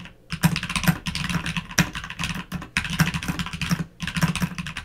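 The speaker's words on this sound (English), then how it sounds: "the keyboard is loud and just not fun to type on." Rapid, loud clacking keystrokes on a homemade keyboard, typed close up in dense bursts broken by a few brief pauses, with no voices.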